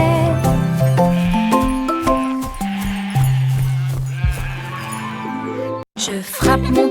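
Sheep bleat in a French children's nursery song, sung and musical tones over a bright instrumental backing, loud and close, with a brief gap near the end before the music resumes.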